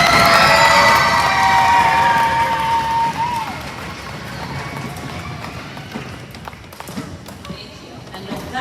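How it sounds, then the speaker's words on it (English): A school audience cheers and applauds for the teachers and staff at a twirlers performance, with loud, lively crowd noise and children shouting that slowly fades over several seconds. "Can we please give our teachers, Ms. Kaylee Mizrahi, and all of our staff a really big round of applause."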